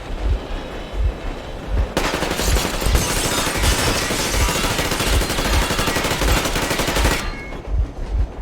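Long sustained machine gun bursts of warning fire in the video game Metro Exodus, loud and close, rattling continuously for several seconds over a low thudding rhythm, with no talk.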